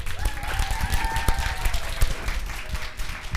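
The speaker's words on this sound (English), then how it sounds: "So give now Evolution a round of applause" Audience applause for a student group presenting on evolution at a 2021 school exhibition, a steady wash of clapping from a crowd with a faint voice beneath.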